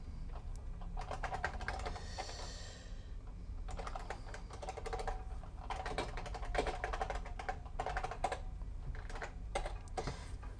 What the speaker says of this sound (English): Let's type in my name.